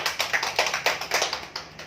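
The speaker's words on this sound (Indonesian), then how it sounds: "Tepuk tangan untuk mama kita dulu." A class claps in unison in a classroom, about a dozen crisp, evenly spaced claps in a quick rhythm, close and clear, fading slightly toward the end.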